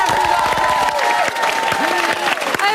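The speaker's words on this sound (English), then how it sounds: "Let's give a round of applause" Studio audience applause at a celebrity reality-show reveal, steady and fairly loud across the whole stretch, with cheering and a voice partly over it.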